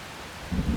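Rain pours steadily with a low rumble of thunder swelling in near the end, a brief, close wash of heavy downpour.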